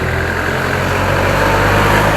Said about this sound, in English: That motorbike has a problem going up.